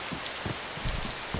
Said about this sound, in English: I hate rain on this.